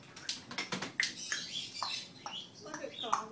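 Pet birds at a bird hospital give bright, repeated chirps and short calls close by, scattered through the clip alongside human voices talking.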